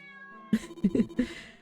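A cat meows several times in short, close, fairly loud bursts over a quiet background tone, the calls clustered with brief gaps between them.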